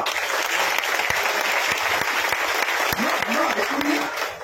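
An audience claps steadily and loudly throughout, a dense wash of applause with a few voices briefly rising beneath it.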